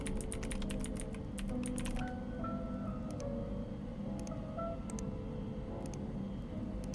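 Computer keyboard typing clicks in sparse clusters over a steady game soundscape with droning tones, the keystrokes crisp and close in short bursts across several seconds, no talking.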